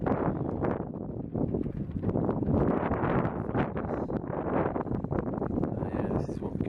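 Steady, gusty wind buffets the microphone with a continuous low rumble and rustle, loud and close throughout, with no clear pauses between gusts.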